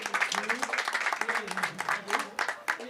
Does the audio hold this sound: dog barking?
no